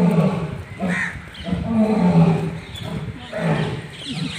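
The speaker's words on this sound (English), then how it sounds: "See, lion is roaring." An Asiatic lion roaring at a zoo, low rumbling grunts and moaning roars in several swells, fairly close, with faint crowd noise around it.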